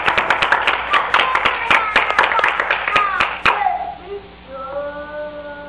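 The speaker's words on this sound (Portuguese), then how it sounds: "Dá uma salva de palmas para Jesus Cristo nessa noite." A church congregation claps in loose rhythm for a few seconds during an evening service, with voices mixed in, then the clapping stops and a sustained tone and murmur remain.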